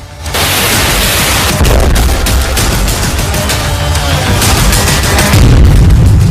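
An explosion on a deserted street in Kharkiv: a loud, broad roaring blast of noise that fills nearly the whole stretch, with rumbling low end and crackling bursts, and no speech.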